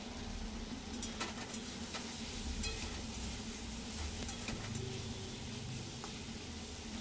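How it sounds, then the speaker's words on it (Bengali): Potatoes, pointed gourd and spices fry in a pan with a steady low sizzle, and occasional stirring scrapes and taps sound close and quiet throughout. "ভালো করে আলু পটলগুলোকে কষিয়ে নিয়ে"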